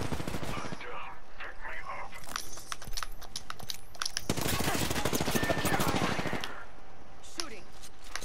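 Rapid bursts of video game gunfire crackle through most of the clip, with dense automatic shooting peaking in the middle before easing off, while a voice talks over the shots.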